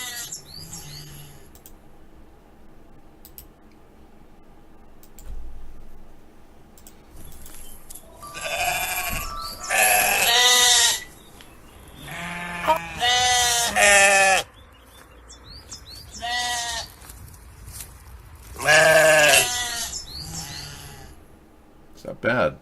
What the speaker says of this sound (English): I've got sheep sounds.